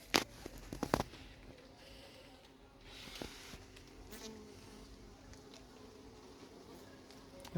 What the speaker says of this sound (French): Il y a un frelon qui a repéré la ruche, qui fait du vol stationnaire.